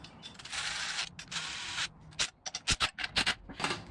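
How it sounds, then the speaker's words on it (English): Ratchet tightening parts while mocking up a Volkswagen Beetle 1776cc single port engine: bursts of fast clicking ratchet strokes, then a run of short quick clicks, close and fairly quiet. "just need to kind of torque it down"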